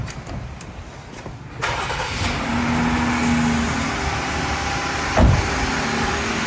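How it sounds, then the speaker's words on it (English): A Jeep Wrangler engine cranks and fires up partway through, then settles into a steady idle, with a brief louder surge near the end. "I'm going to actually start up the engine just so that there's plenty of power to go around."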